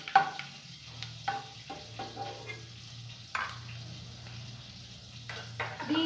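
Onions frying in hot oil spiced with dried chillies, garam masala, nutmeg and mace make a soft, quiet sizzle, broken by several sharp scrapes and clinks of a utensil against the pan.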